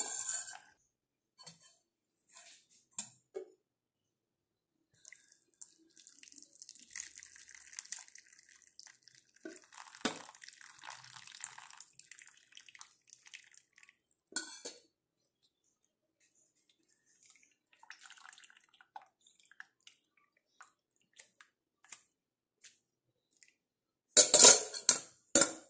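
Boiled black tea steeped with onion, leaves and cinnamon being strained in a kitchen: quiet, scattered clinks of metal utensils and trickling liquid, ending in a short, louder clatter of dishes.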